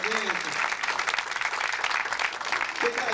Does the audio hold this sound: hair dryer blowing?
no